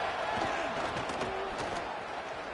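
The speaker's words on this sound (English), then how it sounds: "Guns up, and so is the noise. The crowd electric, trying to help Tech on this 3rd down." Stadium crowd at a Texas Tech football game roars steadily on a third down, a dense continuous wall of cheering with scattered shouts and claps.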